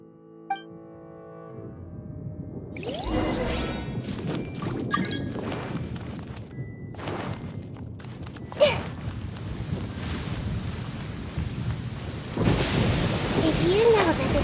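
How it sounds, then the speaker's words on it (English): Thunderstorm with rain in a video game, a steady wash of rain under scattered rumbles and sharp cracks of thunder, with a loud clap near the middle and voices talking over parts of it. "Where is the storm headed? That means anyone outside is in danger!"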